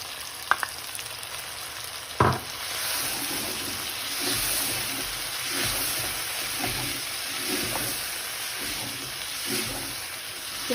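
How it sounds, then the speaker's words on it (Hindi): Sprouts, cabbage and capsicum fry for chow mein in a hot pan, a steady sizzle with soft stirring scrapes and an occasional sharp clatter near the start. "तो 2-3 मिनट फ्राई करते हैं"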